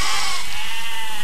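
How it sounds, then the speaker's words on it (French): A sheep bleats in the physics-based building game Besiege, one loud, close, drawn-out cry heard alone over a steady background hum from the game. "Ces saletés de moutons ne m'aident pas."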